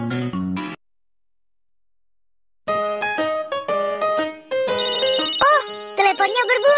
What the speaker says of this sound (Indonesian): Oh, teleponnya berbunyi.